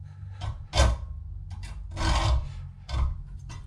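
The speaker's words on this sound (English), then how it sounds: "so I'm just going to cut it off and then file it up a bit" A stainless steel exhaust stud for a VW T3/T25 is filed by hand, giving a few rough, rasping strokes up close, each a short scraping burst with brief pauses between.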